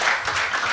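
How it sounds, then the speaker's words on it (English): Church congregation claps in praise during a Sunday morning service, a short burst of dense, steady applause with no voices on top. "would you give the Lord a hand clap of praise?"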